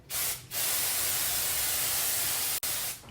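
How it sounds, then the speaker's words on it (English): R&Co Lifestyler volumizing hair spray is sprayed in two bursts: a brief first spritz, then a long, loud, steady hiss lasting a few seconds that stops abruptly, close and alone without talk. "I'm using the R&Co Lifestyler volumizing spray."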